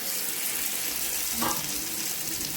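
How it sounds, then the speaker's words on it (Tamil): Fish pieces frying on a hot tawa give a steady, close hiss of sizzling oil with a brief louder crackle midway, no voices present. "அதுக்கப்புறமா தவாவை நல்லா ஹீட் பண்ணிவிட்டு அதில் மீன் தொண்டுகளை சேர்த்துக்கலாம்"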